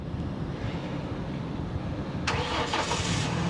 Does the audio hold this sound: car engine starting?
yes